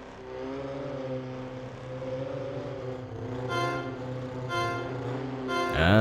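Race cars starting in the video game Ford Street Racing, during a classic team championship round: a steady engine drone builds to rising revs, then a sharp surge of acceleration at the end, close and loud.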